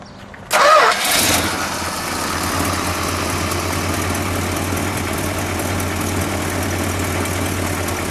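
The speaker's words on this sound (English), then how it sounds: "Let's fire it up, shall we?" A 1964 Chrysler 300 Silver Edition cranks briefly and catches, then settles into a steady, smooth idle with a low rumble that holds close and loud through the rest of the recording.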